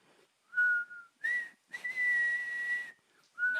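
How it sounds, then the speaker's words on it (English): A person whistles a slow, mournful funeral-style death tune in three loud, close, sustained notes separated by short pauses, with the last note just starting at the end. No one talks. "No, I think he was whistling the right tune,"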